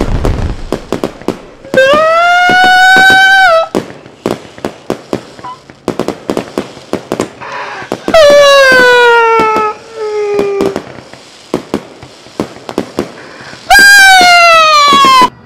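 Rapid strings of firecrackers crackle loudly and close, interrupted by piercing rising-and-falling whistling fireworks three times.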